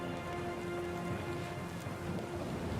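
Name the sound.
storm with rain and thunder, video game Pillars of Eternity II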